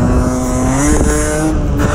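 A 50cc Derbi Senda motorcycle engine revs hard and steadily while the rider pulls a no-clutch wheelie in fourth gear. The loud, close drone climbs slightly in pitch and carries no voices.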